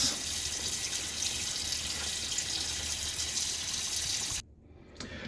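A tap runs steadily for the final rinse of a shaving brush, broadband water rush that holds loud and even for over four seconds, then cuts off abruptly, leaving a brief faint drip near the end.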